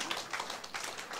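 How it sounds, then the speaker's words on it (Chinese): An audience at a Taiwanese legal seminar claps in a brief, dense burst of applause that sounds somewhat distant and moderately quiet. "拍手吧。"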